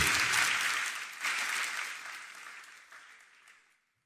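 Audience applause at a school renewable energy competition welcome ceremony in Ghana's Ashanti region, a loud burst of clapping that swells again after a second, then gradually thins and fades out.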